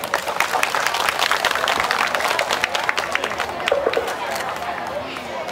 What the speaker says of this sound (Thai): ขอเสียงปรบมือต้อนรับครับ